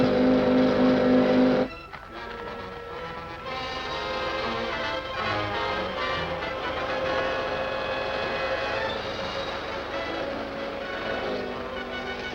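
A car engine roars steadily at speed on a road chase in a 1944 serial, a loud continuous drone with shifting pitch that begins after a brief burst of music.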